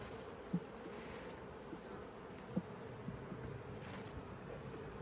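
Honeybees in an open hive give off a soft, continuous buzzing hum, faint and steady, with a few small knocks from handling the hive.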